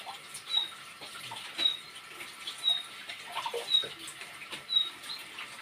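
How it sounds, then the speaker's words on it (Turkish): Hot tap water running during washing: a light splashing, pattering flow with a few brief higher clinks and squeaks at regular intervals, fairly quiet and close. "Sıcak sıcak yıkıyorum vallahi kızlar"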